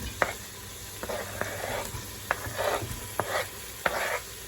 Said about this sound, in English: I diced up 2 brown onions